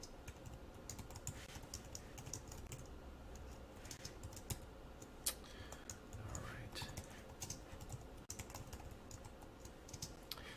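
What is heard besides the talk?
computer keyboard typing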